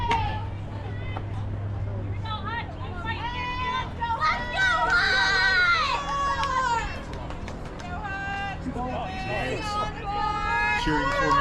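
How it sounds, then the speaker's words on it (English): Spectators at a high school baseball game, the CYHS Panthers against Mechanicsburg, cheer and shout together. Many overlapping voices rise and fall in swells at moderate distance over a steady crowd murmur. "Cheering for McKenzie."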